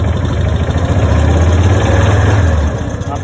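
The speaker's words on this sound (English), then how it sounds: "I'm going to up the RPMs" Car engine raised just above idle, a loud, steady low hum that holds evenly before easing back down near the end.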